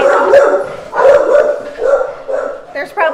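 A dog barks at home in a series of about four loud, close barks with short gaps, ending in a higher yip or whine.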